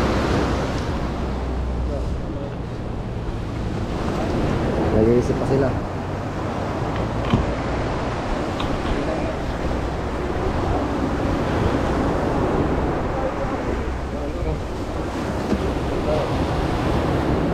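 Fairly large ocean waves rock a small boat at sea, a continuous rough wash of water and wind rumble throughout, with people talking over it.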